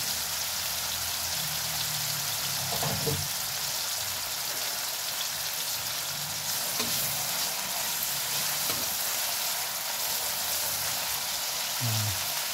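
Steady crackling sizzle of squid frying in a hot pan, continuous and fairly close, with a few faint low thumps.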